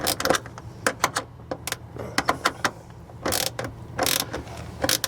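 Ratcheting clicks from bolts being snugged down on a remote sewer valve, coming in quick irregular bursts with short pauses, fairly close over a low background hum.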